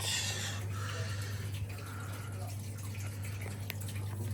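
A Fisher & Paykel WM1490F1 washing machine in a utility room drains, its pump giving a steady low hum under a constant wash of running water, with a few faint drips across the clip.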